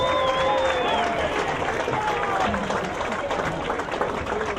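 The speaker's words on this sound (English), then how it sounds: "Let's give a great round of applause in hand for your 2021 Faribault Homecoming Tour" Crowd applause for a 2021 Faribault High School homecoming court fills the gym in a steady, dense wash that lasts throughout, with a few brief tonal squeaks and whistle-like sounds rising above it.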